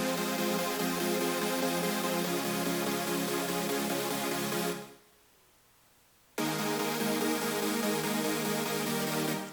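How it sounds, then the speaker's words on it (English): Supersaw synth in FL Studio playing triad chords, a dense bright sustained wall of sound holding two long chords split by a brief near-silent gap, loud and alone. "But if you only play those triads with the Supersaws,"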